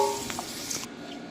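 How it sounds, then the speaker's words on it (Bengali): Onions fry in hot oil in a village-style kitchen, preparing a country chicken curry; a steady, close sizzle with a few brief stirring scrapes and crackles, no talking. "প্রথমে গরম তেলে পেঁয়াজগুলো ভেজে নিচ্ছি।"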